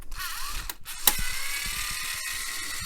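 Metal shield being pried and lifted off a Sanyo Betamax VCR, giving close, faint scraping and ratcheting clicks with one sharp metallic snap near the middle, then softer rattling handling.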